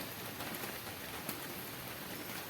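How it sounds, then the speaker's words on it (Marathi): Heavy rain pours down in a village at Alibag during fishing, a dense, even hiss of drops that is fairly faint and continuous, with no talk. "पाऊस भरपूरच पडतो आहे"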